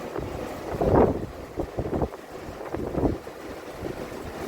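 A breeze at an Outer Banks beach buffets the microphone in rough, uneven gusts, with two stronger rumbling bursts over a constant low rush.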